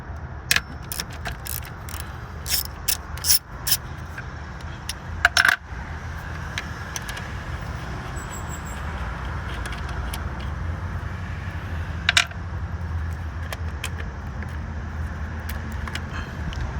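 Metallic clinks and small taps as a 12 mm nut is removed from the alternator on a Honda Accord 3.5L V6. Brief sharp clicks are scattered across a steady low hum, and the work sounds close and fairly quiet.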